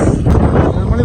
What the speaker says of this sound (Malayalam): ഇവിടെ ഒടുക്കത്തെ കാറ്റ്.